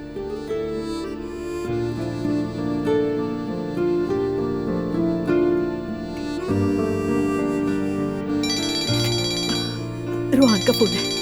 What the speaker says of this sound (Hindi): रोहान का फोन है।